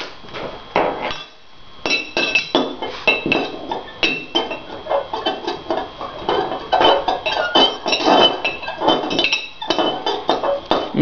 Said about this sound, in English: and now you can stir it up.